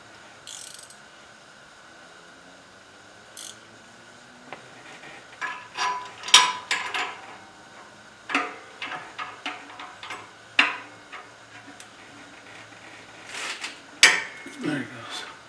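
A ratchet wrench clicks in short bursts of rapid ticking on a bolt inside a 3rd-generation Toyota Prius engine bay during a head gasket job, close and uneven, with pauses and some metallic knocks between strokes.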